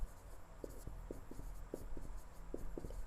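A pen writes out a chemistry definition, a quiet, close run of scratchy strokes and light taps at an uneven pace, with no talking.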